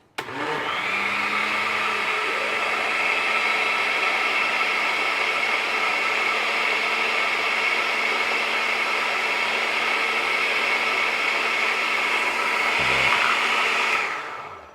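An electric blender whirring steadily as it mixes pudding cake batter, a loud continuous motor drone lasting over ten seconds, briefly dipping near the end before cutting off, with no talking.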